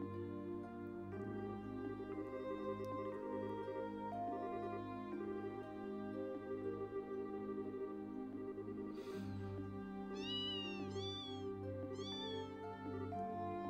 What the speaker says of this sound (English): That sounds like a cat.